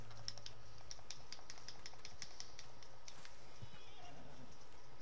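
Faint, rhythmic clip-clop of video-game horse hooves trotting at a steady pace, quiet and somewhat muffled against a low background hum.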